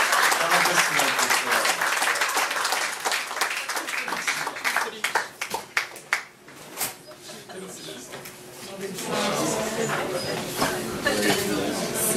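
An audience applauds a singer with dense, loud clapping that thins out midway and then swells again, while a voice speaks over part of it.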